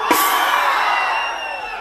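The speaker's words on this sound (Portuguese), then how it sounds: "agora pode dar um grito" A concert audience shouts together on the singer's cue at a live show, a loud sustained crowd roar with whoops, heard close and steady before fading slightly.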